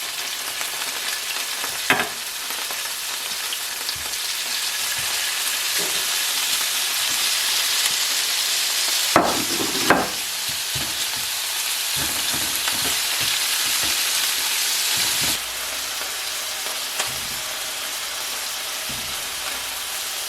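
Lamb chops sizzle and fry steadily in a Dutch oven for an Irish stew, a continuous bright hiss broken by a few sharp crackles and pops, close and fairly loud with no talking.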